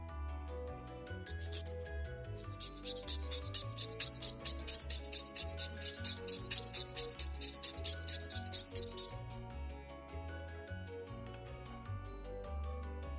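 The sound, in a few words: sanding a miniature piece at an angle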